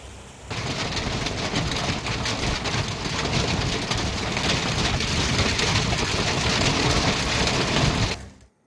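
Unseasonal stormy rain with strong wind in Nanded makes a loud, continuous roaring rush that holds steady for several seconds before cutting off abruptly.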